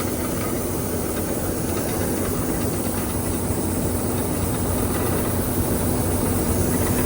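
A combine harvester runs steadily while cutting a paddy field, giving a constant droning engine rumble with a hissing mechanical wash that stays even and loud throughout, with no speech.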